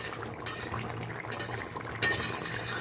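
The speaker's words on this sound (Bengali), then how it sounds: "আমি এখন তরকারিটা একটা পাত্রে ঢেলে নেব।" Rohu fish curry poured from a pan into a serving pot, with soft liquid sloshing and a couple of sharp metallic clinks of a utensil against cookware, close and fairly quiet.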